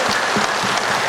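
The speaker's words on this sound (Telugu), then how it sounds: "చిరునవ్వుతోని మీ అరచేతులు చూసుకొని గట్టిగా చప్పట్లు గట్టిగా" Brief burst of audience applause at a Guru Purnima celebration inside a meditation pyramid, with many hands clapping together in a dense patter.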